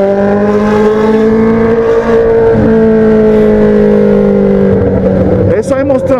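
A Honda Hornet motorcycle engine drones loudly and steadily in a tunnel, its pitch sagging slightly, with heavy rushing wind noise and a sharp rev near the end.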